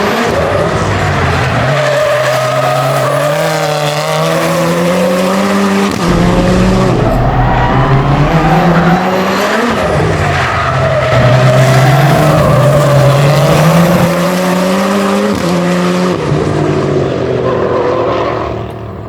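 A rallycross car slides hard through corners, its engine revving and dropping continuously while the tyres skid and squeal on the loose surface, loud and close for the whole stretch.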